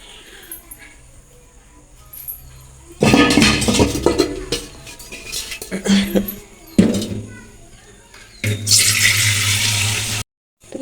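Tap water gushes into a pot for boiling eggs in a home kitchen, starting and stopping in several loud bursts with clinks of cookware, while people talk throughout.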